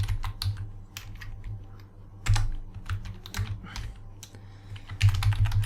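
Computer keyboard typing while coding in IntelliJ: irregular bursts of quick, close key clicks with short pauses between them and no talking.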